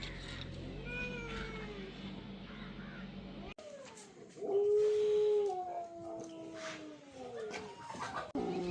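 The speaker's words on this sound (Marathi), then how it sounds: "कुत्रं वरडणं तसं अशुभ मानलं जातं पण हे दोन दिवस बांधून असल्यामुळं असं वरडायला लागलेलं आहे" A dog tied up for two days lets out long, wavering howls that rise and fall, some drawn out and loud, with crows cawing in the background.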